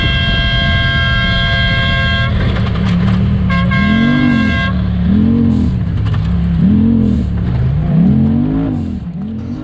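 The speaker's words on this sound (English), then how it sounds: "I was telling my co-driver, hit the horn, hit the horn." A UTV's horn honks in repeated blasts over its loud, revving engine during a Pro Mod off-road race at Rock Run, with the engine note rising and falling throughout.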